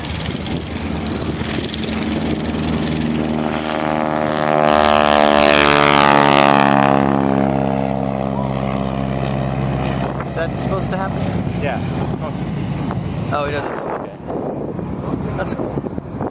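A T-6 Texan propeller airplane roars past at an air show, its engine drone rising to a loud, close peak with a falling pitch sweep before fading, with wind buffeting the microphone and people talking throughout.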